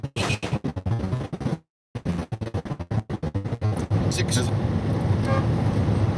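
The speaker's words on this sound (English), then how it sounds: "It's a kind of a wimpy horn, not much of an air horn or anything like that" A car horn toots a few times, thin and weak, amid engine and road noise, with a voice talking over it.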